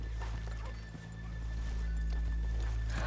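Horses in Red Dead Redemption 2 clip-clop and snort close by over a low rumbling ambience, hooves stepping steadily with a brief dip in loudness partway through.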